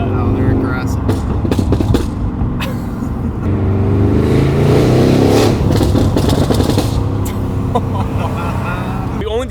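A tuned BMW M2 with a stage 2 ECU tune revs and idles roughly, a loud, close engine rumble with sharp exhaust pops and crackles throughout, while people talk over it.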